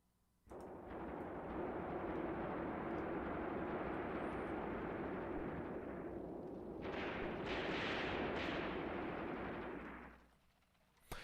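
A sustained, rumbling roar of battle fire in the Graviteam Tactics: Mius Front wargame, dense and continuous for about ten seconds, with a brighter burst partway through before it cuts off abruptly.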